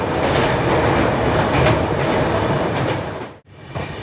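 The 12863 Howrah–Bengaluru SF Express runs at speed on rails near Mecheda station, giving a loud, continuous broadband rumble with wheel clatter that suddenly drops out for a moment, then resumes.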